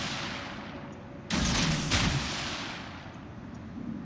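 Warship main guns firing in a naval combat video game, one heavy booming salvo followed by a second blast, then rumbling decay over a steady engine-like background.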